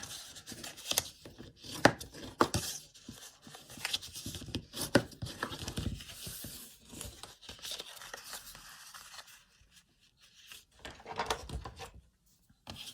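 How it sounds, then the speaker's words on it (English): Cardstock score lines being burnished for an adhesive caddy box, giving repeated scraping and rubbing strokes with some sharp taps, close and fairly loud, with no talking. "here we are, burnishing the score lines again"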